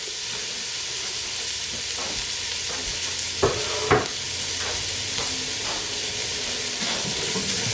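Chopped yellow onion frying with browned beef in a pan, a steady close sizzle running throughout with occasional soft scrapes and knocks of stirring.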